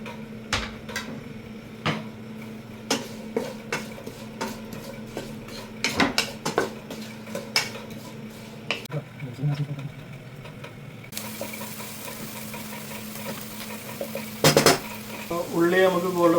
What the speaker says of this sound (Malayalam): മസാല ഉണ്ടാക്കാൻ നമ്മൾ മീൻ പൊരിച്ച എണ്ണ കുറച്ച് ഒഴിച്ച് കൊടുക്കുക. കട്ട് ചെയ്ത് വെച്ച് ഓണിയൻ ഇട്ട് കൊടുക്കുക.